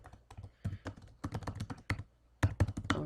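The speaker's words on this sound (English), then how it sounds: "So I'm going to hit F1 key right now, and you can type and search." Rapid clicking keystrokes on a computer keyboard, including a press of the F1 key, heard close and clear in irregular bursts with no talking.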